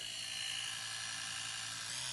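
An electric toothbrush runs in another of its modes, giving a steady, continuous high-pitched buzzing whine throughout, close and unbroken, with no talking.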